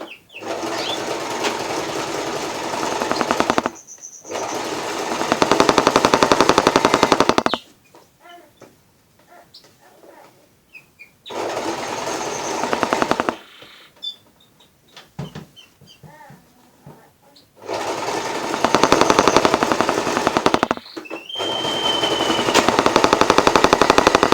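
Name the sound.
sewing machine sewing a seam on a cutlery pouch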